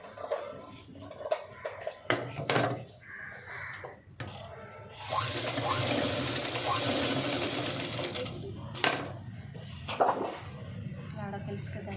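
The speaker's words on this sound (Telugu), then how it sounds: "లాడ స్టిచ్ చేస్తున్నాను." A sewing machine runs a ladder stitch along the front of a pencil-cut pant, with a long steady burst in the middle and shorter runs around it, close and clear, while a person talks over parts of it.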